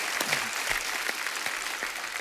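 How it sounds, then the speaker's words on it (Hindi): Audience applause rings out as a dense, steady patter of many hands clapping, moderately loud and sustained, with no voices over it. "इनके लिए पहले जोरदार तालियां हो जाएं"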